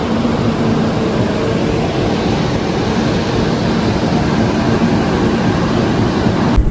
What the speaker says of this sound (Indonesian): kereta api Wijaya Kusuma sudah sampai di stasiun Jombang